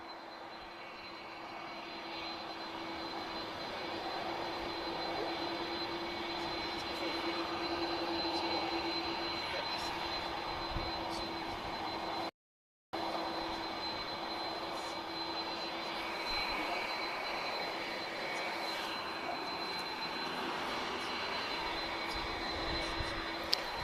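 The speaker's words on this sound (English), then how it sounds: "I want you to get the sound of two CF6 engines" Steady roar of an A330 airliner's twin CF6 jet engines running continuously at Lisbon Airport, a broad even rumble with a faint whine on top, sustained throughout with one brief dropout.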